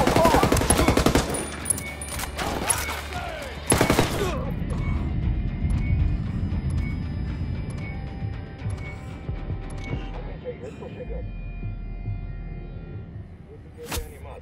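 Gunfire in Ghost Recon Wildlands: bursts of automatic weapon fire and sharp shots up front, then a lower rumbling battle ambience with scattered distant noises and a final loud crack.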